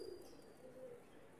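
Pigeons coo softly at a distance with faint chirps and a brief flutter, the low murmuring calls quiet against background hiss.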